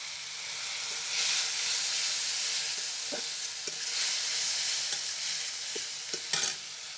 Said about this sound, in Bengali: পেঁয়াজটা আমার ভাজা হয়ে গেছে, এবার আমি মশলাটা দিয়ে দিলাম।